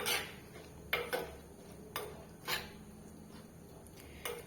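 A utensil stirs a cooking pot on the stove, giving a few quiet, irregular clinks and scrapes against the metal over a soft background hum.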